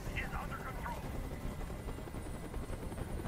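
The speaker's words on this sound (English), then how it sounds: "Tell that helicopter to get out of here." A helicopter hovers overhead in the video game Detroit: Become Human, a constant low rotor thump and engine rumble with voices briefly heard over it at the start.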